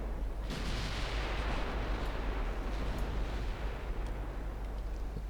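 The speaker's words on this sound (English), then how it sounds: "Now we are firing at the Idaho." Naval guns boom in a battleship engagement in the naval strategy game Ultimate Admiral Dreadnoughts, a loud heavy blast followed by a long rumbling roar and scattered distant thuds.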